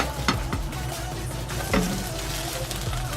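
Breakfast sandwich pieces frying in a pan in a home kitchen, a continuous sizzle with occasional sharper crackles and the light scrape of a utensil, heard close up.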